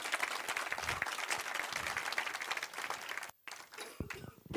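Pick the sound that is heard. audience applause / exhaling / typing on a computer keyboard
audience applause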